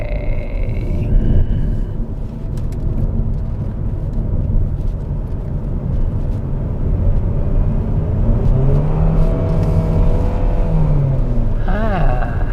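A Mitsubishi Xforce in wet mode accelerates smoothly through a corner with a steady engine hum and road noise. A person speaks over it, and a faint tire or whine tone rises near the end.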